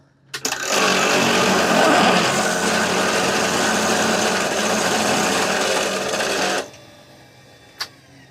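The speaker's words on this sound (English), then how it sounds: "The lathe was going way too slow." A wood lathe turning crabapple wood: a steady, close motor whir starts abruptly, runs evenly for about six seconds and cuts off, followed by a single faint click. No one speaks.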